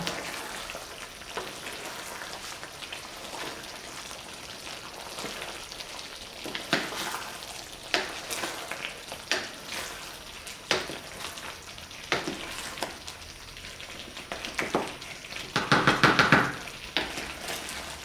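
Chicken and potato stew cooks over a high flame, giving a soft bubbling sizzle punctuated by repeated scraping, clattering stirs of a utensil in the pot, which get louder and busier near the end; no one speaks.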